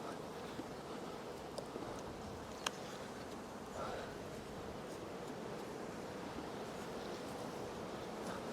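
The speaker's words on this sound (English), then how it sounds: "Windy today." Wind blowing around beehives in an apiary during spring swarm season, a steady broadband rush of gusting air across the microphone with a few faint knocks.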